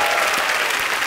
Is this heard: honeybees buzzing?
no